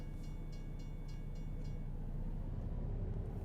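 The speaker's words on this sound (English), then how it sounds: "Little passenger train there, and actually the first time I ever seen that in the game." A passenger train rolls past in American Truck Simulator, a steady low rumble with faint rhythmic clacks of wheels over rail joints, continuous and moderately distant.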